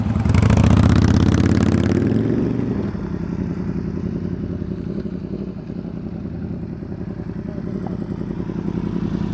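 A motorcycle engine during riding skills practice, revving loudly at first with the clutch pulled in, then dropping to a steady, rattly idle that holds for the rest of the clip, close and alone.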